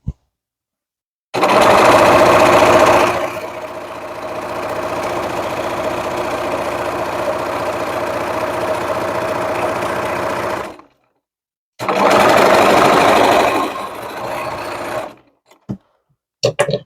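A sewing machine runs in steady bursts while stitching a pillowcase seam, a loud whirring hum that stops and restarts, with brief pauses and small clicks near the end.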